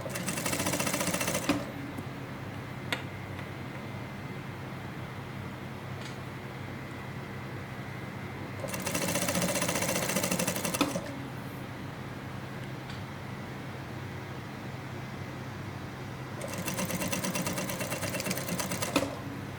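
An industrial sewing machine stitches the facing line of a sleeveless dress in three fast, loud bursts of rapid mechanical whirring, separated by quieter pauses with faint clicks and background hum.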